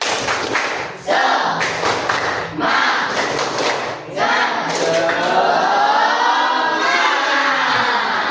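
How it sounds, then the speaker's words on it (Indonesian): Schoolchildren doing a rhythmic spirit clap chant in a classroom, loud close bursts of clapping in a patterned beat mixed with group voices shouting along, ending in sustained chanting. "Sekali lagi tepuk semangat."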